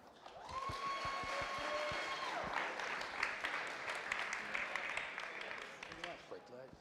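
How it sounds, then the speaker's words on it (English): Applause from an audience at a TouchDesigner creative-technology event, sparse clapping alongside tonal electronic sounds at first, then swelling into a fuller crowd ovation with a few louder claps and some voices mixed in. "So please give a huge round of applause to Noah and Simon."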